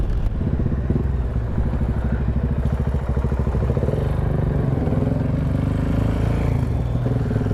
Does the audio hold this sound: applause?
no